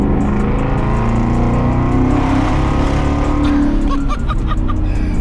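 A 2021 Ford Mustang GT with the 5.0-litre Gen 3 Coyote V8 and an MBRP race exhaust, loud and close, roaring and revving hard with a deep rumbling exhaust note that eases off near the end.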